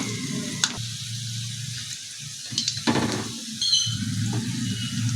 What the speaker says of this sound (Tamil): இன்னும் கொஞ்சம் நேரம் வறுக்கணும்